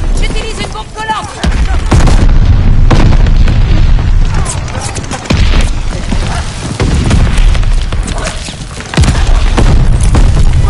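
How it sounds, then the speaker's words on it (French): Sticky bomb blasts and gunfire in a multiplayer shooter game: loud, booming explosions and rapid bursts of shots crowd together in heavy, chaotic bursts, with a game announcer's voice heard faintly under the din. "J'utilise une bombe collante."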